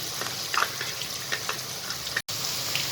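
Onions sautéing in a pan for vegetable upma, giving a steady, soft sizzle with faint crackles and occasional stirring scrapes, one brief dropout midway, and no voices.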